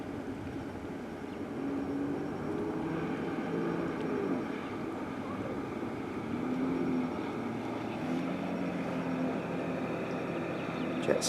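Jet skis run out on the water near a lakeside campsite in Västervik, Sweden, a distant droning engine whine rising and falling in pitch as the craft pass, steady and fairly faint over the open air.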